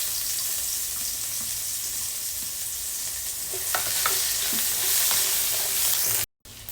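Onion and ginger sauté in a pan for a clam dish, a continuous close sizzle with a few spoon scrapes and clinks toward the end, no talking.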